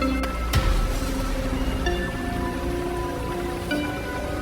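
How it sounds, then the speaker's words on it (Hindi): Heavy rain falls at night in a steady, loud, dense patter with a sharp crack near the start, accompanied by faint sustained tones of background music. "बारिश तेज होती जा रही है।"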